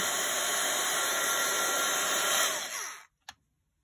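A hair dryer or heat tool blows steadily and loudly while drying distress oxide ink on a handmade peace card base, then cuts off abruptly, leaving a brief click after a moment of quiet.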